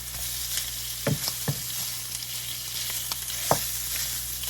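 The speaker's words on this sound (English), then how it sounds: "I'm gonna let the sausage get a good hard sear for a few minutes" Mild Italian sausage sears hard in a single pan, a steady low frying crackle with a few louder pops and spits, close by and alone.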